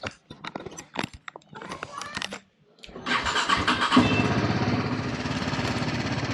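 A car engine cranks in several stuttering bursts, catches after about three seconds and settles into a steady, close idle on a warm, dusty day.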